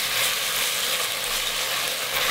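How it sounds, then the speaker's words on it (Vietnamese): Kimchi sizzles and crackles loudly as it is stir-fried in hot garlic oil in a pot, a dense, continuous frying hiss close up with no talking. "Là mình cho hết phần kim chi vào, xào lên cho thơm."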